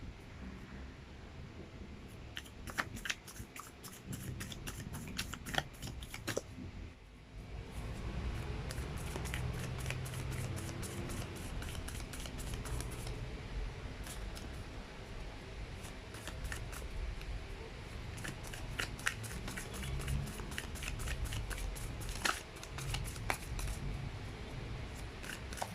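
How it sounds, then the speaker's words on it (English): Tarot cards shuffled and drawn from a deck, repeated crisp riffling and flicking bursts with soft rustles between them, close and fairly quiet, no voices. "We'll take 2 more cards from this deck."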